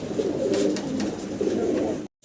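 Fancy pigeons coo close by in soft, throaty, rolling murmurs that run continuously for about two seconds, then cut off abruptly.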